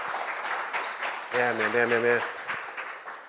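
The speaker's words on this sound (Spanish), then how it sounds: "Ese aplauso es como que no hubiese gustado tanto" Modest audience applause at a tech talk carries on under a voice, which speaks over the clapping midway before it thins out.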